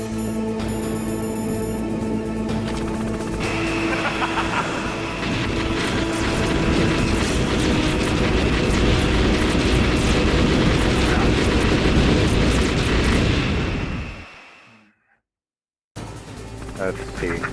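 Military attack helicopter (Hind) from Metal Gear Solid, a loud sustained rotor and engine roar with mechanical clatter, building up over game music and then cutting off abruptly into brief silence before resuming.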